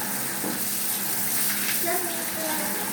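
Water pours from a faucet while laundry is being rinsed, a steady splashing gush close by, with people talking over it.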